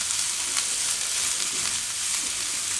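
Chopped onions fry in hot oil in a pan for wheat-flour noodles, giving a steady, dense sizzle with faint scrapes as they are stirred, close up and with no voices.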